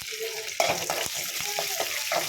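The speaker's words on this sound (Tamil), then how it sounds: "இது நல்லா வறுக்கலாம்" Chana dal, urad dal, curry leaves and green chillies fry in hot oil in a pan, crackling up close while a spoon scrapes and stirs in quick, uneven strokes.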